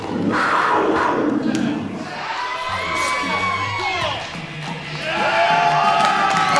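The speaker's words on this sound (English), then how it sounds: "The crowd here at the Davis Arena going crazy for this man, the Big Cat" Wrestling crowd at the Davis Arena roaring for the Big Cat, with loud sustained cheering, whoops and shouted battle cries surging in waves throughout.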